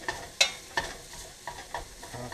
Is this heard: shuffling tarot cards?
no